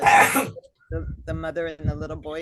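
A single sharp sneeze bursts out at the start during a poetry reading, followed by a brief pause and then a person talking.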